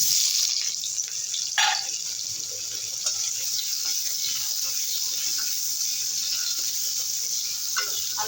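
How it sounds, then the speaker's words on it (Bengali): Potato pieces frying in hot oil left from frying fish, a steady bright hiss and sizzle running continuously with a few small pops, close and fairly loud. "আলুটাকে ভালো করে একটু ভেজে নেব"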